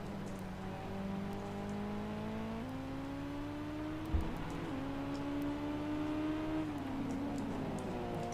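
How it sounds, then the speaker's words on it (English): A race car engine in a Gran Turismo 5 racing game droning steadily as the car brakes into turn 11, its pitch stepping down through gear changes, with a brief thump midway and no talking. "So here's Bruno now braking into turn number 11."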